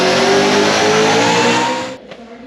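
8/71 supercharged LSX engine in a VN on a tuning run, loud and close, a rising high-rpm roar held for about two seconds before cutting off abruptly.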